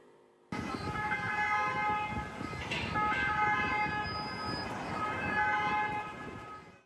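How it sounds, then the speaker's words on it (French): Ambulance sirens outside a prefecture building sound in steady, overlapping tones with a horn-like quality, continuous over a dense rumble of street noise. "Devant la préfecture, les sirènes résonnent."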